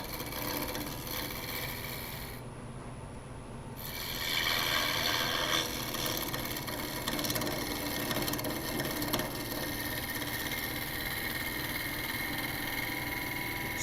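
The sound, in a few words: skew chisel cutting wood on a lathe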